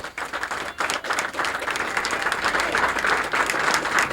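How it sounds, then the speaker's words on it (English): Studio audience at a bowling tournament show applauds the runner-up Tom Morgan, a full, sustained round of clapping that swells after a brief dip and continues steadily to the end. "Big round of applause for our runner-up today"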